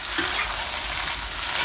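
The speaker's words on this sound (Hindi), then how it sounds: "शिमला मिर्च को पहले हम फ्राई करेंगे" Capsicum fries in a little oil, a bright continuous sizzle heard up close with a faint clink of a utensil at the start and no talking.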